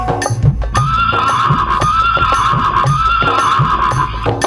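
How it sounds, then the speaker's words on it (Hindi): A horse neighing sound effect with a loud, drawn-out whinny heard in repeated pulses, accompanied by rhythmic clip-clop hoofbeats underneath, close and clear without talk. "एक हिनहिनाता घोड़ा दरबार को खड़े,"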